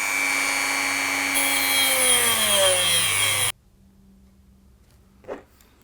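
A power drill whines loudly, its pitch sliding as it bores through a model railway train coupling, then cuts off abruptly, leaving near silence and a brief thump.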